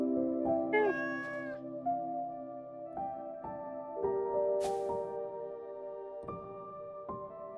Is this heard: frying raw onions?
no